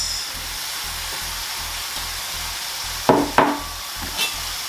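Onions are added to a hot cooking surface for smoked bacon cheeseburgers. A soft steady sizzle runs throughout, with a regular low pulsing underneath and two sharp scraping clatters near the end.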